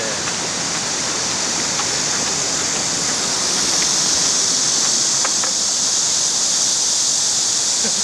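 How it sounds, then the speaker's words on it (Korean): Steady broadband rush of a small creek in China, continuous and fairly loud throughout, like a stream or small waterfall close by, with no voices. "물소리가 제법 들리는 거 보니까 이 근처 어디 같은데."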